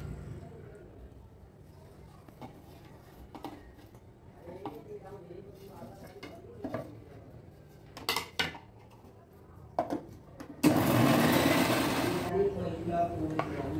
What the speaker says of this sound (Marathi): आता हे मी मिक्सरमध्ये फिरवून घेते